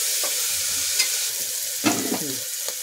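Onions frying in a pan for a jackfruit curry, a soft steady sizzle with a few sharp scraping stirs of a spoon, close and fairly quiet, no talk.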